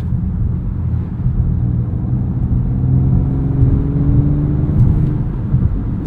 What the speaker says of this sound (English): And I think this V6 sounds pretty good too.